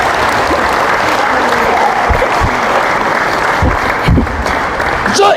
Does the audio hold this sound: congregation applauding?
yes